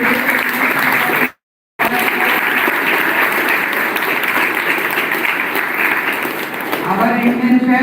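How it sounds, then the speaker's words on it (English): Sustained, loud applause from an audience at a college tech event honouring students, with a brief silent gap near the start and some voices surfacing toward the end. "So I request big round of applause to students."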